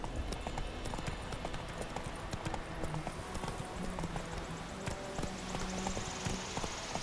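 Horse hooves clip-clop at a steady trotting rhythm in The Witcher 3: Wild Hunt, continuous and moderately close beneath faint game ambience, with brief speech.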